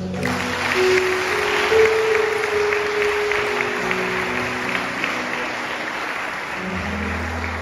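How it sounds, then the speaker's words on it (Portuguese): A large church congregation applauds steadily throughout, with a sustained musical tone and faint voices under the clapping. "Aplauda Jesus."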